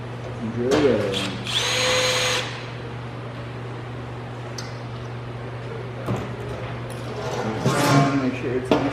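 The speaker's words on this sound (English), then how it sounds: "And drill the other one." Power drill boring a rivet hole in metal belly pans held with Clecos, several short loud whirring bursts with pauses between, close by, with someone talking and a steady background hum.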